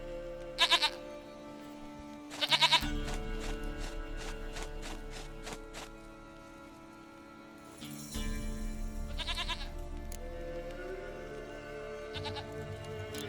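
A goat in The Witcher 3 bleats several times: two short trembling cries early on, a longer one later, and a faint final bleat, all set against a low game ambience with light tapping and no talk.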